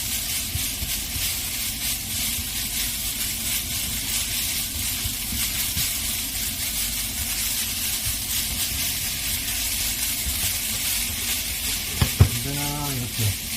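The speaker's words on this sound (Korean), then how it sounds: "언제나 이렇게 기름에 볶는 음식을 하면 자글자글 지글지글 소리가 참 듣기 좋아요" Steady, dense sizzling of seaweed stems stir-frying in hot oil runs throughout, crackling evenly, with a brief scrape and clatter near the end.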